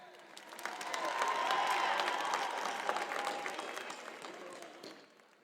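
Applause for school staff at a high school graduation ceremony, a large crowd clapping with some cheering, swelling quickly to a full roar and then gradually tapering off.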